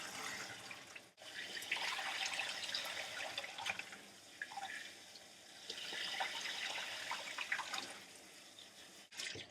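Warm water pours steadily from a tap over a human-hair wig as conditioner is rinsed from the ends, a close, continuous splashing wash with one brief break and a faint gurgle near the end.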